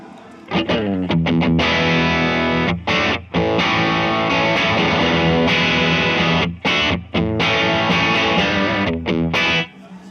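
A guitar runs through the MXR Billy Gibbons Siete Santos fuzz pedal on its Pete side, the lower-gain, midrange-focused setting. It plays a steady stream of fuzzy, sustained chords and riffs, loud and up front, with brief pauses between phrases.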